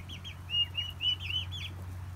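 Young turkeys kept alongside chicks give a quick series of thin, high peeping calls, about eight short chirps, faint over a low steady hum.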